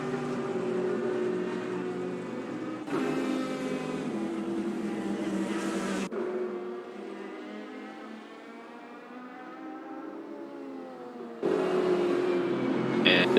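Race cars at Mugello in a sim racing game, a Porsche tucked into the slipstream behind a Mercedes, their engines whining steadily through upshifts and rising revs, loud and close throughout with no talk.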